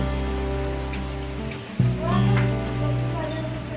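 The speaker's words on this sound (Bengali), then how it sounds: "কি জোরে বৃষ্টি হচ্ছে, দেখ" Steady rain falling hard, a dense wash of noise throughout, with a person speaking over it and a brief knock partway through.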